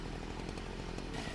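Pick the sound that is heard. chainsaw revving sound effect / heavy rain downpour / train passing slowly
chainsaw revving sound effect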